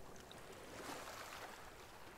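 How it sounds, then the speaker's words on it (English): Oars splashing through water as a rowing boat moves in a pirate video game, a soft steady wash of water with faint wind, low and continuous, no talk. "I'm rowing now."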